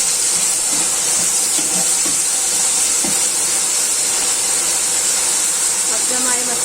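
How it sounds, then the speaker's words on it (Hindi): Onions fry in a pan with tamarind nearby, giving a continuous loud hiss and sizzle with faint clinks and a few scattered noises over the steady crackle. "ये देखें, प्याज हमारी फ्राई होना स्टार्ट हो गई है"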